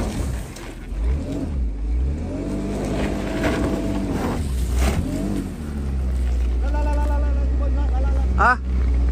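A Porsche Cayenne's engine revs and strains as it climbs a steep slope, loud and close, with repeated surges in pitch and a steady heavy drone; people talk over it.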